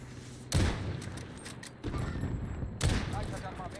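Several bursts of rapid sniper gunfire in Warzone crack out in short volleys separated by pauses, with faint background noise.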